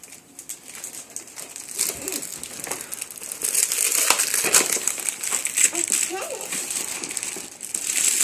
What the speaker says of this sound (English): Try to rip it real good.